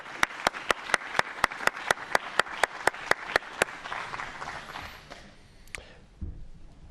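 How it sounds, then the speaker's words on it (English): Audience at an entrepreneur competition finals applauding the tech finalists, a few loud sharp claps in a steady rhythm over a softer crowd of clapping that fades out toward the end. "let's show everyone from the tech final a big round of applause and encouragement."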